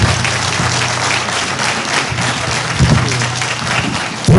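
An audience at a Carver annual town meeting claps loudly and steadily for several seconds, a dense sustained applause filling the room close by.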